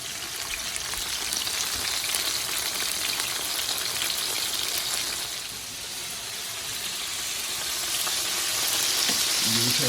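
Chicken and shrimp fry steadily in an uncrowded pan, a dense continuous sizzle with crackling pops, dipping briefly in the middle before swelling again, with no one talking.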